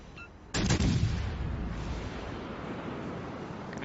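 A heavy naval gun salvo booms in the World of Warships Legends naval battle game, one sharp loud blast followed by a long rumbling decay, standing alone without speech.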